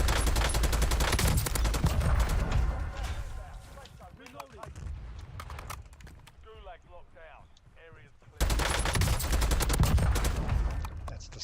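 Loud bursts of gunfire ring out in Call of Duty Warzone, including sniper rifle shots. A dense volley opens the sequence, thins into a quieter stretch with scattered sounds, then another heavy burst erupts near the end, with voices talking throughout.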